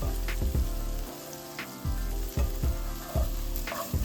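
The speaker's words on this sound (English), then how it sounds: "I'm just going to saute that for about 3 to 5 minutes." Green peppers, red peppers and onions sizzling as they sauté in a hot pan, with steady close frying hiss broken by repeated stirring scrapes and clatters, no voices.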